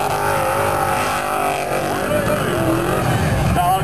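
A race car with a 534-cubic-inch Chevy big-block engine at a car event in Kangasala, Finland, a loud, continuous rumbling roar with shifting pitch. Someone talks over the engine.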